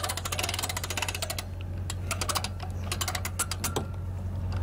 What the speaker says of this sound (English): And then winch it on.